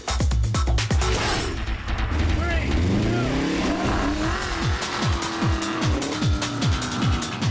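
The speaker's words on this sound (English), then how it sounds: "A two-lap race between me and the Aston Martin Vantage versus JC Monet and his race-prepped Subaru" An Aston Martin Vantage V8 races a race-prepped Subaru WRX STI, engines revving loud and close with rising gear sweeps, tire squeal and rushing wind; a voice talks over the roar.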